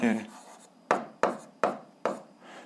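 Chalk or marker strokes writing algebra on a board, four sharp rhythmic taps or strokes spaced about a third of a second apart, each fading quickly, following a short stretch of a voice.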